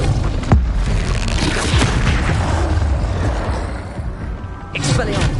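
Repulsor spell blasts from the Hogwarts Legacy video game boom out amid continuous combat clamor, with a sharp hit early on and another strong burst near the end, loud and close.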